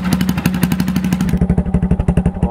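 A Honda XRE 300 motorcycle engine idles close up, its low, even exhaust pulses thumping in a steady rapid rhythm, loud and unaccompanied by speech.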